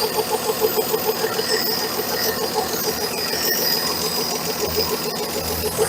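A 1968 Dodge Dart engine idles steadily and close, with an even rhythmic ticking pulse over a low running drone.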